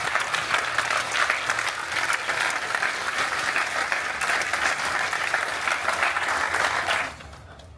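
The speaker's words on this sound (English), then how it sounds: "I think we should give her a big hand for her leadership." Audience applause at the groundbreaking ceremony for the Wiregrass Innovation Center, a steady, dense wash of many clapping hands lasting about seven seconds before stopping abruptly, leaving faint room sound.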